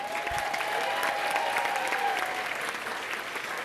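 Audience applause, a dense, steady clapping throughout, moderately close and unbroken by talk.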